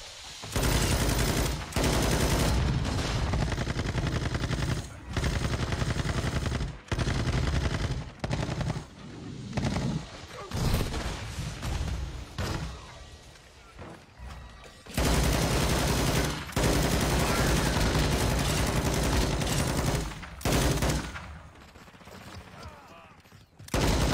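Rapid automatic gunfire and explosions from a Call of Duty Modern Warfare 2 chopper gunner or gunship run, loud and nearly continuous in long bursts with brief gaps, faint voices underneath.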